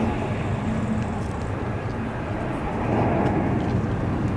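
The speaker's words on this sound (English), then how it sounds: "Pretty derated takeoff that" An airliner on a derated takeoff at Zurich Airport makes a broad, continuous engine roar that swells slightly partway through, heard from a distance outdoors.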